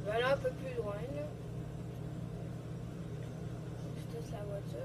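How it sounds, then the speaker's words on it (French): Car engine in GTA 5 giving a low, steady rumble throughout, moderately loud, with someone speaking French over the opening seconds. "Je teste la voiture, elle va bien."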